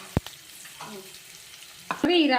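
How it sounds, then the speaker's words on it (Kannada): Peanuts, onion and green chillies frying in a pan, a steady low sizzle with a few sharp clicks and stirring knocks, rising into a louder crackling burst near the end. "ಇದು ಶೇಂಗಾ ಹಾಕಿನಿ, ಈರುಳ್ಳಿ, ಮೆಣಸಿಕಾಯಿ ಎಲ್ಲ ಹಾಕಿ ಫ್ರೈ ಮಾಡ್ಕೊಳ್ಳೋಣ"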